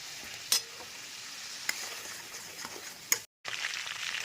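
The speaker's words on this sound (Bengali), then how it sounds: "এই ফোড়নটা এবার দিয়ে দেবো" Fennel, fenugreek, black mustard seeds and dry chilli are dropped into hot oil for tempering in a South Indian prawn dish. The oil gives a soft, steady sizzle broken by a few sharp crackles and pops, and there is a brief gap near the end.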